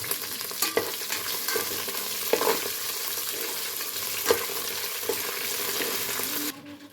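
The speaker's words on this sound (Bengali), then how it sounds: "বিনস আছে, গাজর আছে, ক্যাপসিকাম, সব এগুলো আমি একসঙ্গেই ভেজে নেব।" Beans, carrots and capsicum fry together in a pan with a continuous close sizzle, broken by the clacks of stirring utensils, until the sound cuts off at the very end.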